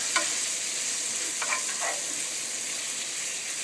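Bacon with jalapeno seasoning fries in a pan for a breakfast scramble, a bright, continuous sizzle and crackle close by, with a few brief pops and spatters rising over the steady hiss.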